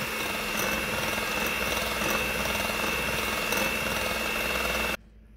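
Eggs and sugar beaten with an electric mixer for vanilla cupcake batter, giving a steady, loud motor whir that runs unbroken for about five seconds and then cuts off abruptly.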